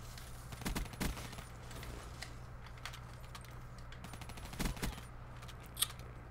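Rapid gunfire in Black Ops 3 on the Spire map, scattered bursts and single shots heard faintly in the distance over a low background drone, with no talking.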